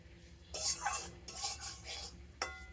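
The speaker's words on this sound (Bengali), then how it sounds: "একটু সময় ধরে সুজিটাকে ভালো করে ভেজে নিতে হবে" Semolina is stirred and roasted in a pan with a spoon, giving repeated close scraping strokes in a loose rhythm over a low background hum, with no voices.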